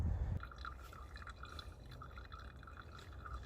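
Water trickles and drips through a hanging filter at a rainy campsite, a soft, close patter of small drips with a faint liquid gurgle and a brief bump at the start, all quiet and continuous.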